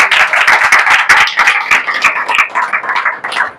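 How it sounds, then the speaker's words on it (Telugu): A church congregation clapping in a quick, irregular burst of sharp hand claps, loud and close, lasting a few seconds. "ఇప్పుడు చప్పట్లు కొట్టండి"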